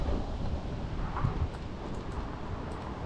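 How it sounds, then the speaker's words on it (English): Steady wind rushes and roars through trees, a broad continuous whoosh with gusty swells and no voices. "Oh, it's so windy. I love it when it's windy like this."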